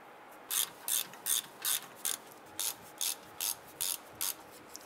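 A ratchet clicks in ten short, regular bursts while tightening the caliper bracket bolts on a 2002-2008 Dodge Ram 1500 during rear brake work, crisp and close with nothing else heard.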